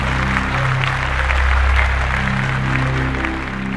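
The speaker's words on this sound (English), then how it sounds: "je vous demande de l'applaudir" An audience at an artificial-intelligence talk by Marco Landi at the Yacht Club Monaco applauds him, a steady, dense wash of clapping that swells slightly midway, with a low hum running underneath.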